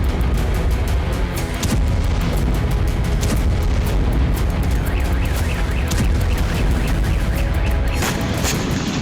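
A heavy blast from a Ukrainian long-range drone strike in Tatarstan, Russia, heard as a continuous loud roar with repeated sharp booms and cracks, dense and unbroken throughout.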